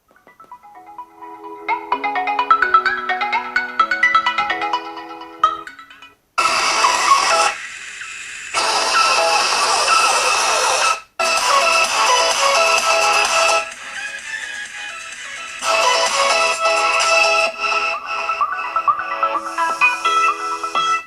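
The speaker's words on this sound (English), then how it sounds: "I'm going to play a quick song for you guys just to kind of give you how loud this thing can get." Music plays through the loudspeaker of an Honor 10 phone, loud and bright, with melodic tones giving way to fuller passages and short gaps between sections.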